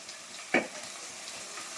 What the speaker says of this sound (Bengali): মশলাটাকে আমি একটু ভালো করে কষিয়ে নিই